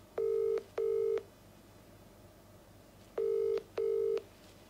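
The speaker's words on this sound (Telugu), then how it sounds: "రింగ్ అవుతోంది సార్." Telephone call ringing back in a line: two pairs of steady ring tones with a gap between, clear and alone over faint background hiss.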